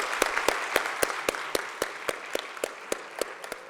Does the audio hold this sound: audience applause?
yes